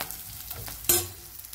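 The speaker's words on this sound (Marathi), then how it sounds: "आता मस्तपैकी मसाला भाजून घ्यायला लागले" Masala roasting in a hot pan, stirred with a spatula: a close sizzling crackle with one sharp scrape-and-hiss burst midway, steady and without voices.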